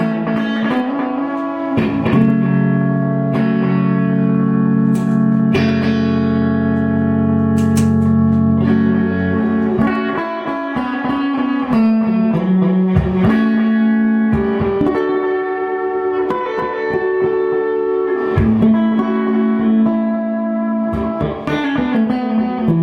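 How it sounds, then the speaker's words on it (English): Electric guitar played through a Madbean Nature Dweller pedal with dwell turned fully down and echo fully up, sustained chords and single notes ringing with repeating echoes, loud and alone. "Here's the nature dweller on that same setting with the dwell all the way down and the echo all the way up"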